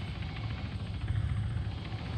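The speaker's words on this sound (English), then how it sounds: "I didn't expect everybody to shoot at the chopper." A helicopter flies in a multiplayer shooter game, its steady low rotor thrum droning continuously and fairly loud, with no talk over it.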